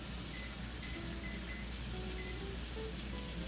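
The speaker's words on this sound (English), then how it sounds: "And that sizzle. Oh yes, the sizzle." Chicken sizzles steadily in a hot pan, a constant crackling hiss with faint pops, moderately quiet and uninterrupted.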